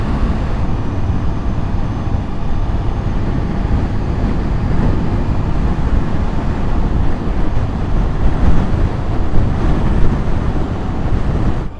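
Ocean surf along the desert coast of Peru, a steady broadband wash of waves mixed with wind buffeting the microphone, loud and continuous for the whole stretch with no voices.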